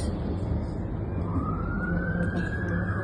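A siren rises and wails steadily over loud, rumbling traffic noise, with voices mixed in beneath it.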